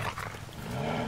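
A zombie dog growls in a Resident Evil 6 graveyard, a short, close, throaty snarl heard on its own.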